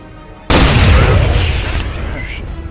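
Rocket launch and explosion in the military shooter ArmA 3: a sudden loud boom bursts in near the start, then a long rumbling roar slowly decays, with faint voices in the background.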